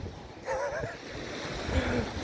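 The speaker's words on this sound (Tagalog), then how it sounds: "Yan ang malaki talaga yung alon eh." Large ocean waves wash and break along a shoreline at a beach sanctuary in Maragondon, Cavite, a steady surf rush with wind noise on the microphone and people talking faintly nearby.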